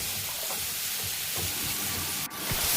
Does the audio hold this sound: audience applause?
no